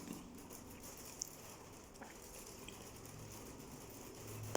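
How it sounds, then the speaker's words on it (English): Rain begins falling outdoors as a soft, steady patter, faint and fairly distant, with a few small drips and taps standing out against the even hiss. "It just began to rain."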